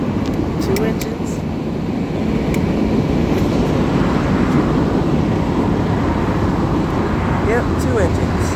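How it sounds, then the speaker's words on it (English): A long Union Pacific mixed freight train rolls past in Texas with two locomotives at the rear, a loud continuous rumble and wheel clatter up close with faint squeals. "here comes the end with 2 engines"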